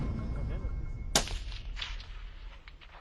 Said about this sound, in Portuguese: De novo o tiro.